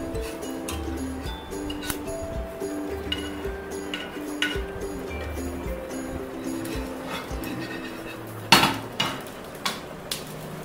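An egg is flipped in a pan while cooking an egg sandwich, with scattered metallic clinks and scrapes of a utensil against the pan over a steady low kitchen hum, ending in a cluster of sharper taps.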